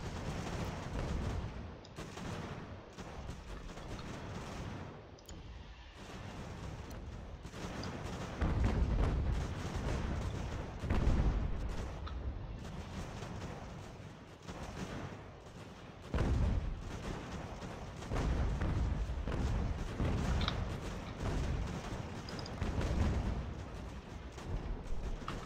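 Musket volleys and artillery fire from the strategy video game Ultimate General: American Revolution form a dense, continuous battle din, with rolling booms and crackling shots that swell and ebb without pause throughout.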